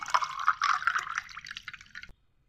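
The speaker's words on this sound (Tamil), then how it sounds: "தண்ணி கொஞ்சம் சேர்த்துடலாம்" Water pours into a glass of lemon squash for about two seconds, splashing and bubbling close by, then stops abruptly.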